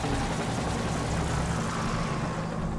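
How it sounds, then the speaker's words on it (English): In the video game Infected, a helicopter's steady, droning engine roar fills the scene continuously, loud and unbroken, with a low rotor-like hum throughout. "I hear the helicopter."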